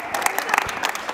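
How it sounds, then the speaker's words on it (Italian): A crowd at a Christmas gathering of the Feltre volleyball club claps in encouragement, a short dense burst of applause close by with no voices over it. "fatele un applauso di incoraggiamento"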